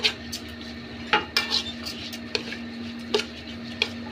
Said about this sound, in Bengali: একটু নাড়াবো।